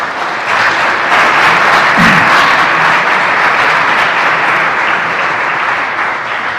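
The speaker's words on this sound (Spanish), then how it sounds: "¿Cuántos le dan un aplauso al Señor?" Church congregation applauding the Lord during a sermon, a loud, dense wash of many hands clapping that holds steady throughout.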